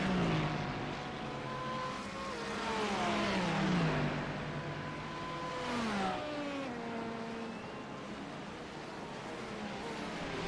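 Race cars, including the 017 Ferrari and the 67 Kinetic Racing Porsche, roar past at the 2024 Long Beach Grand Prix street circuit. Loud, continuous engine howls sweep up and down in pitch as the cars shift gears and pass close by, with no talking.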